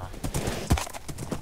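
Horse hooves clop in Minecraft during a horse race, with quick, uneven thuds close up and a bright burst in the middle. Voices chatter underneath.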